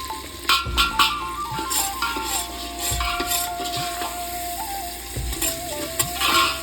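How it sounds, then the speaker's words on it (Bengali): Spices are lightly fried in a pan for handi mutton, a soft sizzle broken by repeated spoon scrapes and knocks against the pan, with faint tonal background sounds and no speech. "মশলাটা আমি হালকা করে ভেজে নেব, দেখুন এরকমভাবে ভাজা হবে অল্প।"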